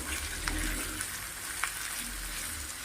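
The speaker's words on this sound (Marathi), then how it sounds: "आता हे तेलावरती परतून घेऊया" Mixed vegetables for a quick bhaji sizzle steadily in hot oil, a continuous frying hiss with a few soft stirring scrapes, close and moderately quiet, with no talking.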